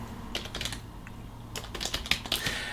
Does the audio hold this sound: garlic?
no